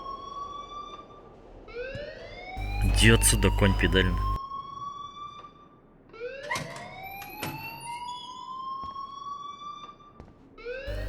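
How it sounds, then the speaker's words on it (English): A school alarm in the video game Life Is Strange wails in repeated rising sweeps, loud and continuous, while someone talks over it during a brief louder burst. "please turn off that alarm"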